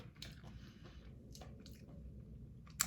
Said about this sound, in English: I'm eating chips. These are dill pickle flavored crinkle kettle chips or whatever.